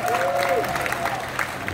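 Concert audience applauds a stage performance, with steady clapping and crowd noise, a sustained tone and some voices mixed in.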